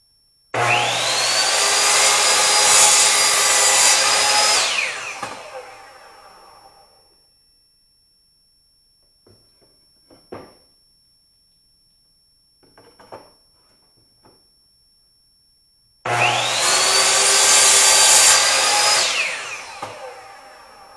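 A chop saw cuts wood for a magnetic knife holder in two loud, sustained bursts about five seconds each, separated by a quiet gap with a few faint knocks and clatters of handling; no talking.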